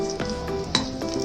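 Cumin seeds sizzle in about six spoons of oil heated in a cooking pot, a steady close crackle broken by a few sharp metal clinks of a spoon against the pot.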